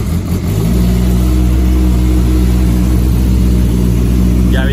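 Honda motorcycle engine cranked on the start button, catching after a brief churn and settling into a loud, steady idle close by.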